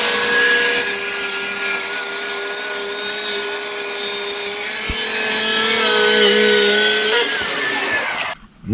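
A Festool track saw rips through a wooden river table slab, a loud steady whining cut that holds for about eight seconds before spinning down and stopping.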